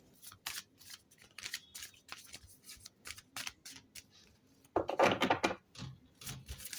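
Tarot deck being shuffled by hand, a quick run of soft crisp riffles and card flicks repeating in short bursts, close and quiet, with a louder, denser shuffle near the end and no talking.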